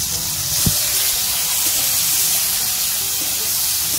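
Chopped tomato and salt frying in a pan with garlic and cumin seeds, giving a steady, close hiss and sizzle throughout, with a brief clatter early on.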